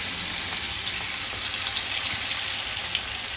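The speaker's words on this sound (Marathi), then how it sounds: "आपण हे लॉलीपॉप तळून घेऊ" Chicken lollipops frying in hot oil, a steady, close, even sizzle with fine crackling that runs without pause and no talking.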